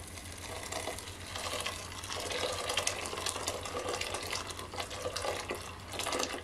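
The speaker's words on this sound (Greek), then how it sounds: "θα ρίξουμε 1 λίτρο νερό" Water pours steadily from a tap into a cooking pot holding wheat grains, a continuous rushing splash under a low hum, close by, with no speech.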